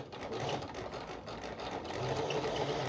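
Sewing machine stitching a trouser waistband at slow speed, a steady continuous whirring hum, close and moderately loud, with no talking.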